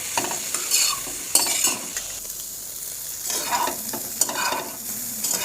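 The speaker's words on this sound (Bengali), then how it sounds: "কপিটা ভাজা ভাজা হচ্ছে।" Cauliflower florets fry in a kadai with turmeric while a spoon stirs them, giving a continuous sizzle broken by several bright scraping stirs and clinks, close and alone.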